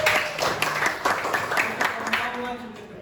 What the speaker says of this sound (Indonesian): Tepuk tangan dong bagi yang sudah